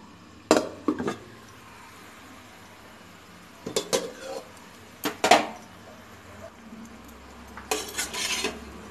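A lid clanks down onto a pot of Odia small-fish curry simmering with water and green chillies: a few sharp metallic knocks and scrapes spread over several seconds, close and moderately loud, with quiet gaps between.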